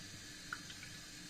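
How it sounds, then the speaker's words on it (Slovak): Tap water trickles into the water tank of a Klarstein air fryer, a faint, steady wash of running liquid with a couple of small splashes. "máme tu naliať vodu, najlepšie destilovanú, hej, ale teraz ju nemáme, tak skúsime obyčajnú vodu"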